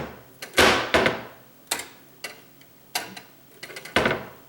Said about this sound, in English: if you let go here, it closes because the hinge is designed to make it close